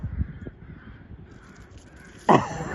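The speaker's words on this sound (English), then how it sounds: "Oh, there's a fucking crow." A crow caws once, loud and harsh, near the end, after a stretch of quiet outdoor background with a few faint knocks.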